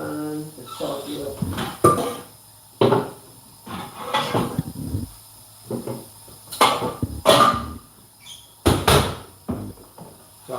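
Frying pan and cookware being set on a stove in a home kitchen, a series of sharp metallic clunks and knocks spaced irregularly between bursts of nearby talk.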